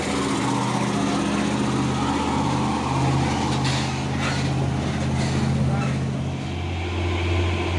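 Hino 500 trailer truck straining up the steep Bukit Kodok climb in the afternoon, its diesel engine a loud, steady low rumble that holds continuously throughout.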